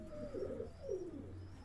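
A pigeon coos softly, close but quiet: a few low, rolling coo phrases from what may be a hen pigeon of the Kraków breed, kept in a loft, with steady background hum and no talking.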